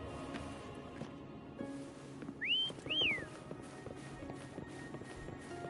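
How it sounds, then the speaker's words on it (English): Two short rising-and-falling whistles from a player character in the video game Wuthering Waves, clear and close, over soft game ambience with hoofbeat-like footsteps. "Try whistling."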